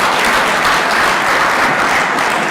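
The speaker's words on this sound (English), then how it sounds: "A round of applause for this one." A crowd applauds during a speech at a public address, loud and dense continuous clapping that holds steady throughout.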